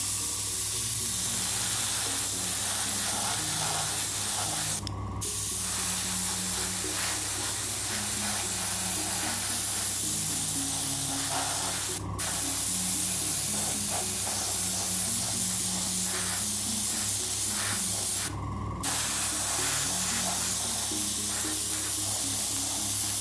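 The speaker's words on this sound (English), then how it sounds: "I'm going to put a very light undercoat of Vallejo light grey" Airbrush spraying Vallejo light grey undercoat onto a Bandai Star Wars Millennium Falcon scale model, a steady close hiss running almost without a break, cut by three brief pauses.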